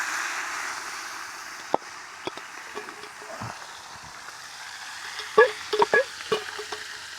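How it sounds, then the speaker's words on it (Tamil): Dried fish, anchovy and sudal karuvadu, dropped into hot oil in a pan, giving quiet, sparse crackles and a few sharper pops that cluster toward the end over a low background hiss. "எண்ணெய் கொதிச்சுது, கருவாட்டை போடுவோம் பொரியட்டு"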